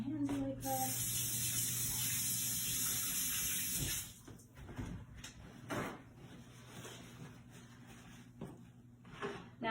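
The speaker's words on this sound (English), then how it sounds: "Wash my hands really quick." Water running from a kitchen tap as hands are washed, a steady hiss for about four seconds, then stopping, followed by soft clunks and handling sounds.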